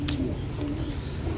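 Pigeon cooing inside a loft, a low steady murmur of soft coos with a brief brighter flutter near the start, continuous and moderately close.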